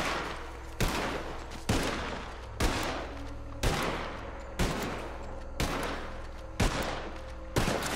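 Heavy gunfire from the video game Red Dead booms in steady, evenly spaced volleys about once every second, loud and close over a constant low background.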